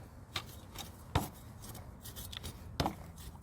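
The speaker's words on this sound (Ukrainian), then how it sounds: "Так, трошки перемішаю." Potting soil mixed with compost for tulip pots, heard as a steady rough scraping and rustling with a few sharper gritty strokes standing out, close and fairly quiet with no talk.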